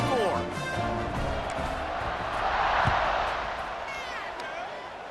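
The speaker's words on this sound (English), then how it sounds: "this crowd is buzzing after that last score" Crowd at a game in College Football 26 makes a broad, steady roar that swells slightly midway, with faint whistles and cheers rising above it.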